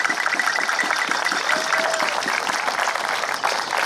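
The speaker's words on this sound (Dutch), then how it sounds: "ik vraag u om eens een heel hartelijk applaus voor al die vrijwilligers" An outdoor crowd at a Limburg schutterij federation festival gives the volunteers warm, sustained applause, a dense even wash of many hands clapping close and loud throughout, with no speech over it.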